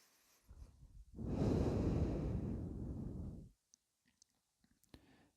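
A single deep, slow breath during yoga practice, a soft rushing exhale lasting about two seconds, close and quiet, followed by near silence with faint small clicks.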